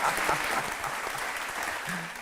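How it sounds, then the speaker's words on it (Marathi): Studio audience applauding at a Marathi courtroom-style talk show, a dense, steady wash of clapping from many hands lasting the whole moment. "टाळ्या वाजवा"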